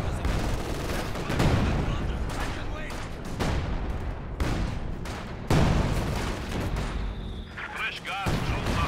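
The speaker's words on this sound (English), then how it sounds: "Oh, those Panzerwerfer rockets." A Panzerwerfer rocket barrage in the strategy game Company of Heroes 2 lands as a rolling series of loud booming blasts and crackling gunfire, with a voice talking over the explosions.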